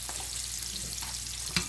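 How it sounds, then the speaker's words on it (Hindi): Tempering for whole green moong dal sizzles in hot olive oil, giving a soft, steady frying hiss with faint spatter pops close by and no talking. "तो ये जैतून के तेल में तड़का आज लग रहा है।"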